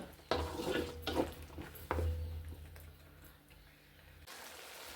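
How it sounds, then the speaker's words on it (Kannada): Palak rice masala fries in oil in a pan, making a low sizzle with a few stirring scrapes and clinks of a utensil against the pan, close by, with no talk. "ಇದು ಒಂದು ಐದು ನಿಮಿಷ ಸ್ವಲ್ಪ ಹಸಿ ವಾಸನೆ ಹೋಗೋವರೆಗೂ ಫ್ರೈ ಮಾಡ್ಕೊಳ್ಳೋಣ"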